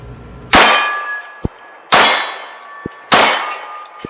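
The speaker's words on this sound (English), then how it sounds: "I'll put 6 bullets in that thing." Three loud ringing metallic clangs at roughly one-second intervals, each with a long shimmering decay, from 9mm pistol shots striking a steel target at 20 yards, with faint clicks in between; no speech.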